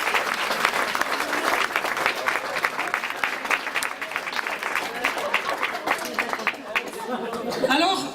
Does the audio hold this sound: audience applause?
yes